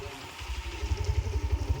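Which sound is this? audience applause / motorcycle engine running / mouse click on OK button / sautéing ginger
motorcycle engine running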